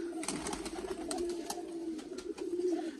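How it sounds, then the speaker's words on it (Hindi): Several pigeons perched overhead at a breeder's loft coo in soft, low, repeated throbbing calls over a steady background murmur, with faint sharp clicks scattered through. "ये जी कुछ कबूतर हैं ऊपर बैठे हुए हैं"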